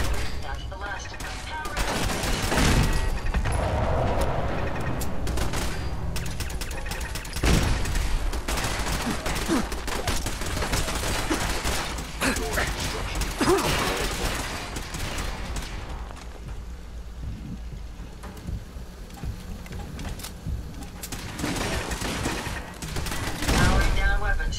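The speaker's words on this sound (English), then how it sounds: "Hostile sensor reading detected. Opening fire." Robot gunfire in Fallout 4 rattles in dense, sustained bursts through the whole stretch, loud and busy with layered blasts and game sound, with talking mixed in.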